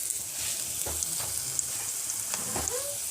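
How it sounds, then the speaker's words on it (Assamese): Pea and potato pakora (mutter pakora) frying in hot oil, made for an Assamese recipe, gives a steady, close crackling sizzle with small pops throughout and no talking. "ইয়াত তেল গৰম হৈ গৈছে আৰু ইয়াত এতিয়া মই এইখিনি দি দিম।"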